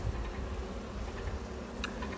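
Honeybees hum in a steady, close drone at an open beehive while the keeper inspects frames with brood disease, the buzzing continuous and unbroken throughout.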